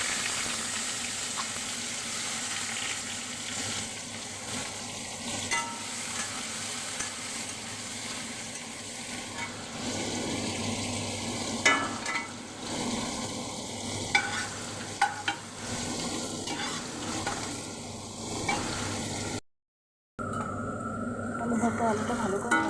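Onion, chili and potato fry in a pan for mashed potato, a soft steady sizzle with occasional stirring scrapes, a voice talking over it before a brief cut near the end.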